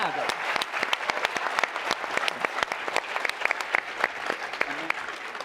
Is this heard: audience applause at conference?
yes